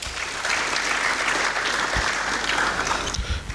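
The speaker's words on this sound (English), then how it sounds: "May we give the special guest of honor another round of applause." Sustained audience applause in a hall at an army headquarters ceremony honoring a special guest, steady and dense throughout, loud and even with no talk over it.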